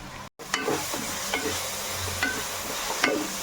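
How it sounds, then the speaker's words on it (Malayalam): Sliced onions sautéing in a pan for a Kerala-style chicken curry with coconut milk, a steady close sizzle broken by several stirring scrapes of a spoon against the pan. "സബോളയൊന്ന് ഇനി നല്ലപോലെ വഴന്ന് വരട്ടെ"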